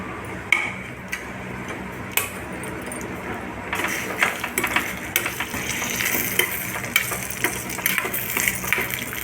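Spices, onion, dried red chillies and curry leaves tempering in three spoons of hot oil in a kadai for drumstick sambar, with a steady sizzle growing louder midway and light utensil clicks and stirring taps throughout.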